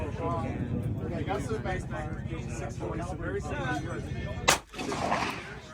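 A single sharp pistol shot from an HK CC9 micro compact at a 125-yard steel target rings out near the end, over continuous outdoor range chatter and voices.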